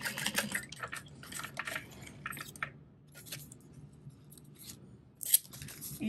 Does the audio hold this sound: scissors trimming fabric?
yes